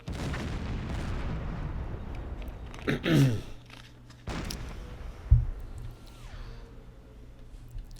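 Deck gun of a submarine in the naval game Silent Hunter 4 booms several times: a strong blast near three seconds, another just after four, and a sharp crack past five, each followed by a short rumbling tail over steady engine hum.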